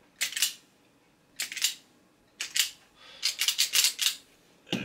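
Scissors or cutters snip through wires for an Amiga 500 floppy drive, several sharp crisp cuts in separate bursts, close up.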